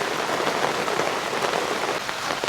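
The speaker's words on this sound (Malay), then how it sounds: "Memandangkan hujan." Steady rain falls at Rock Lemon Campsite on a cold night, a dense continuous patter drumming on tents and the ground, close and loud, with no talking.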